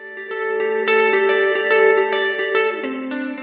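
An EarthQuaker Devices Ledges reverb pedal processing a guitar, sustained chords and picked notes washing into a lush, long reverb tail with shimmering overtones, loud and close, with no talking.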